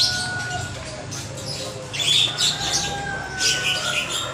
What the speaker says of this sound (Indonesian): lihat-lihat burung